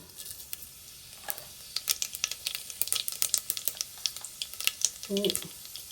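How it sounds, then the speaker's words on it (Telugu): Mustard seeds, cumin and fenugreek crackle and pop in hot oil, a burst of sharp sizzling snaps building in intensity, with a brief voice near the end. "ఇప్పుడు ఇందులో పోపు దినుసులు ఆవాలు జీలకర్ర రెండు మూడు మెంతులు"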